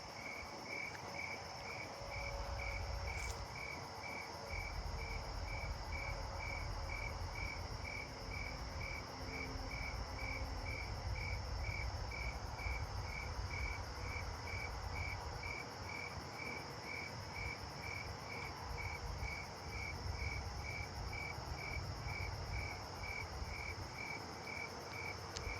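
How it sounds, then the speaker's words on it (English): Snowy tree crickets chirp steadily at night, a dense, even pulse repeating without a break over a constant insect chorus and low outdoor rumble. "there's some snowy tree crickets right along through here tonight"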